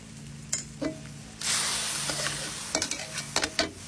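Snakehead fish stir-fried with garlic, pepper and ginger in a pan: a burst of loud sizzling, then sharp scrapes and clatters of the spatula against the pan, close and without talk.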